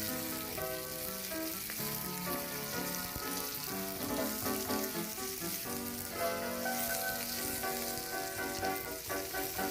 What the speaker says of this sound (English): Cook the onions until it's translucent.